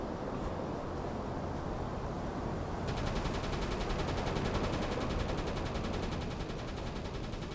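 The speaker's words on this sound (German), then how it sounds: "Da, jetzt schießen sie." Gunfire aimed at a U-boat in the submarine game UBOAT, a dense continuous rattle of shots over a steady low rumble, heard alone without voices.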